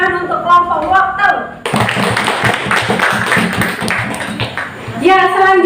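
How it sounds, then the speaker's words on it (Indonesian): A classroom of students claps for a group that has just presented, the dense applause starting abruptly and holding steady for about three seconds between stretches of a teacher's talk. "Ya, tepuk tangan untuk kelompok waktu."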